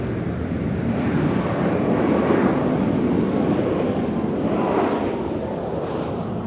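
Jet airliner in Desert Gold retro livery rumbling steadily at Nashville International Airport, a broad continuous roar from mid-distance with some wind buffeting, no voices.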